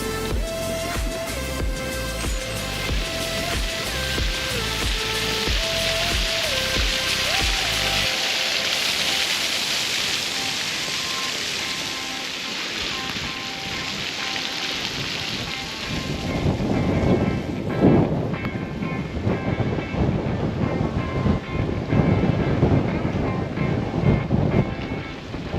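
Strong wind gusting and buffeting a microphone in a town's central square in Barstin, a broad continuous roar that swells louder in the second half.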